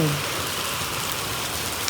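Hailstones pelting down steadily onto a field of ripe, standing wheat, a dense, even patter heard up close and unbroken across the whole stretch, with no voices.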